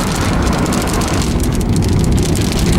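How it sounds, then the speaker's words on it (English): Rain drumming hard on the windshield of a moving car during a downpour, a dense, loud, continuous patter over the low rumble of the road. "the rain's just shooting up the windshield"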